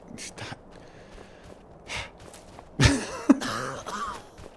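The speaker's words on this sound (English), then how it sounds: "And what's the coughing? Does that mean I'm diseased?" A character in the video game Skyrim coughs and clears its throat, a few rough bursts in the second half standing out over quiet in-game ambience.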